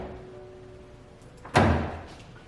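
A door pushed shut lands in one firm thump after a quiet stretch of faint hum, the impact sharp and close, then fades quickly.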